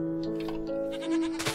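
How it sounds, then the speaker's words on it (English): A goat in the Minecraft video game (version 1.4.7) lets out a short, wavering bleat over soft background music, brief and fairly close. "What is that? Oh, it's goat."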